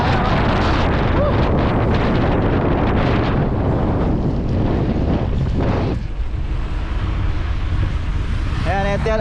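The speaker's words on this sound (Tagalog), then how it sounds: "Grabe, sobrang lakas ng hangin." Strong wind buffets the microphone during an open-road motorcycle ride, a loud continuous roar that barely eases in the last few seconds.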